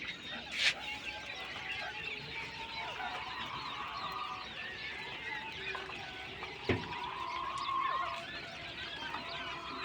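King quails give soft, scattered clucks and chirps from a pen, intermittent and fairly faint over a low background murmur.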